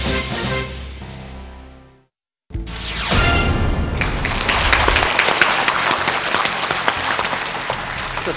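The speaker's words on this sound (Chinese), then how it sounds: "全场700多名与会代表也纷纷站起来热烈鼓掌" Over 700 conference delegates rise to their feet and applaud warmly as a historic moment is marked. A sharp burst of dense, sustained clapping fills the hall. It follows an earlier fading stretch of applause and a short silent gap.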